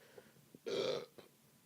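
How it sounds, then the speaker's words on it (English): A single close burp, short and throaty, stands out against a quiet background with a few faint small noises before and after. "that's my tribute burp for him"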